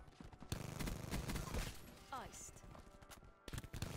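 Rapid bursts from a Skorpion EVO submachine gun with a Wild Fire operator mod in Black Ops 4, sharp clustered shots with game effects, loud and close, a brief quieter gap near the end before firing resumes.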